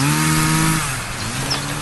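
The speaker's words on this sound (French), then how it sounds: "à cause de la tronçonneuse du voisin" A neighbour's chainsaw drones nearby during a birdwatching outing, a loud steady engine whine that dips in pitch partway through and then keeps running.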